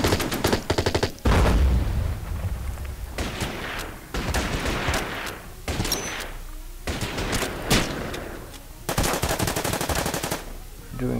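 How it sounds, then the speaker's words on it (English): Gunfire rattles in the Order of Battle Pacific war game during fighting on the Bataan Peninsula, with loud repeated bursts and volleys of machine-gun fire coming in clusters, some talking underneath. "They're returning fire now."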